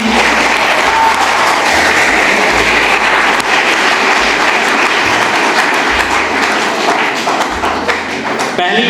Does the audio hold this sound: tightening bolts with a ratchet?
no